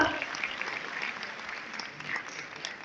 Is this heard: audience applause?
yes